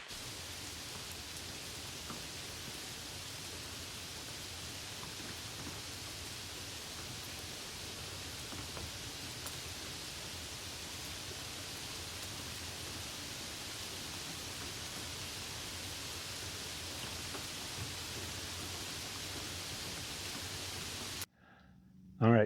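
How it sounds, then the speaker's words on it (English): Steady rain falls during a summer hike by a lake, a soft, even patter with faint scattered drops that continues for about twenty seconds before stopping abruptly. "the rain has stopped"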